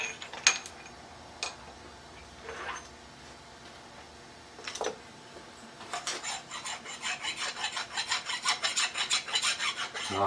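Filing the burr off a metal gear blank on a small lathe: a few isolated scrapes and knocks, then a run of rapid rhythmic rasping strokes growing louder toward the end, close by.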